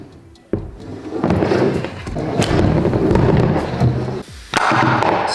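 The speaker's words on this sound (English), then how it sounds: "we are gonna blow air into where the brake line bolts on right here" Compressed air forced into a Brembo brake caliper's brake line port, shooting the pistons out: a loud hissing blast with sharp knocks and thumps, a brief pause, then another strong burst of air.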